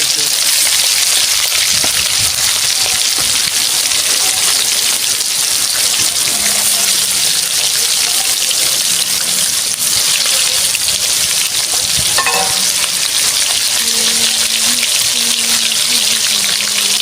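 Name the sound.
chicken pieces frying in hot oil and ghee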